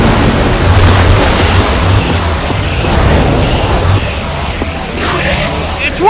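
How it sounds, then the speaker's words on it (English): Rushing water released by a lever in the video game Minecraft Story Mode pours out as a loud, steady, broadband roar filling the whole stretch without letup. "I don't know how much water this thing is gonna kick out"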